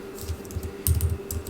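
A computer keyboard is tapped a few times to enter a value in a COMSOL simulation field, giving light, clicky keystrokes in a short irregular run, close by and quiet, with no talking.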